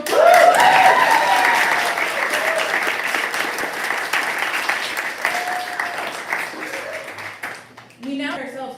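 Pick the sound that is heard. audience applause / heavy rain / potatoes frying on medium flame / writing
audience applause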